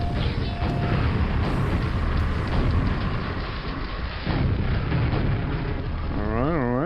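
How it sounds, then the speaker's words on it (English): Rocket launcher explosions in the video game Quake, a heavy rumbling boom that sustains and rolls on, followed by a wavering warbling game sound near the end, loud and dense throughout. "Rocket launcher, my beloved."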